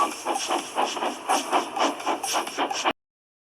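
A steam engine hisses and puffs in a steady rhythm of chuffs under continuous hiss, cutting off abruptly into silence.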